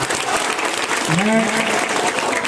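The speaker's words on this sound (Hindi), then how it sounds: "हमें उसको ताली बजा के उसका स्वागत करना चाहिए" A large crowd at a public gathering welcoming a matriculation exam topper with sustained, loud applause that fills the whole stretch, with a voice rising briefly over it.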